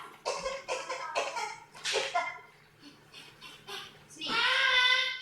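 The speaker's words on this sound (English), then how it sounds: "Cough." Several harsh coughs come in a quick series, followed by a pause and then a longer, louder rasping burst, close and clear, with a faint steady hum behind.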